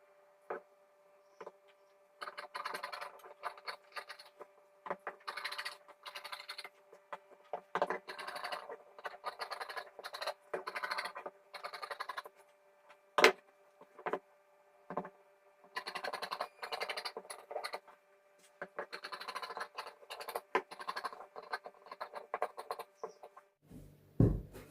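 Scissors snip through blouse fabric for a boat neck princess cut blouse in quiet, close bursts of crisp cutting strokes, pausing between runs of snips.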